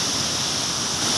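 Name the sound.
small waterfall flowing in Geiranger, Norway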